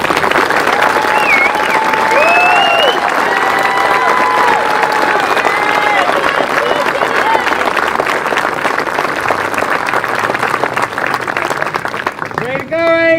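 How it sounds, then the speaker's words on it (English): Loud, continuous applause from an audience at a top 100 scholastic achievement ceremony, dense clapping with cheers and voices mixed in, fading slightly near the end. "give the top 100 recipients one last round of applause for their amazing scholastic achievements"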